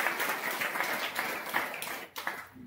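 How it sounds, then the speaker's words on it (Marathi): An audience claps steadily together as a blessing at a Shravan-month religious gathering with Rudra puja, a dense patter of many hands that thins toward the end. "आशीर्वाद टाळी कशासाठी वाजवायचा म्हणजे भरभराट त्यांच्या व्यवहार अजून भरपूर वाढो, अजून भरपूर भरून देवो म्हणून टाळी वाजवा."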